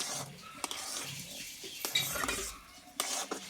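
Semolina is stirred in a pan with a metal spoon while roasting for mango laddus, giving scattered scrapes and sharp taps against the pan at a moderate, close level.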